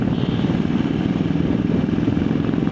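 Several motorcycles ride together on a Sunday breakfast group ride in Delhi, their engines a loud, continuous rumbling drone with steady wind noise and no talk.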